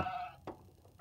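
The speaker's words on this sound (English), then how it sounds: "It's a sheep, so it goes baa." A wooden sound puzzle piece plays a short sheep baa, first a sustained bleat-like tone, then a brief click and another quick burst at the end, close and fairly quiet.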